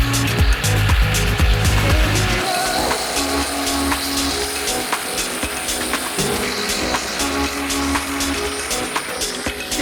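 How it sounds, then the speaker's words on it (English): A Sawzall reciprocating saw cuts into a car fender for a wide body flare install on a WRC Ford Focus, a loud rasping metallic buzz running continuously and close with a few harsh judders. "when I got the Sawzall just jumping around all over the place"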